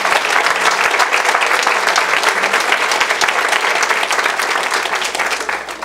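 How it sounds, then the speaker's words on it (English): A school board meeting audience applauds its distinguished students, with dense, steady clapping from a roomful of people that holds loud for about six seconds and eases slightly near the end. "One more round of applause for all of our distinguished students."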